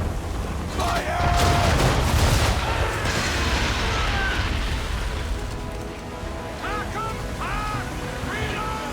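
A ship's cannons fire a broadside in the video game Assassin's Creed III. Heavy booms rumble over several seconds amid splashes and battle noise, with voices shouting through it.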